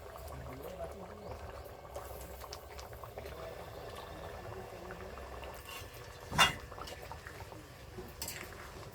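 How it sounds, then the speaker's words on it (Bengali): Curry gravy with potatoes and paneer bubbles as it boils in a pan, a soft, low simmer with one sharp utensil clink midway and faint kitchen clatter near the end. "তরকারির ঝোলটা এবার ফুটে উঠেছে"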